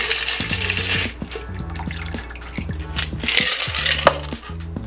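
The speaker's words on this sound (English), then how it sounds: "Pour that into a glass with fresh ice." Liquid pours and splashes into a glass, with ice clinking and rattling in short bursts throughout, close up and fairly steady.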